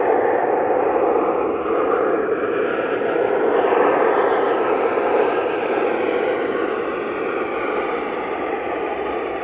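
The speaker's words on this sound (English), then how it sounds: "There's always a noisy Ryanair when you're in the middle of a sentence." A Ryanair airliner at Manchester Airport gives off a steady, loud broadband roar that holds at even strength throughout, heard alone.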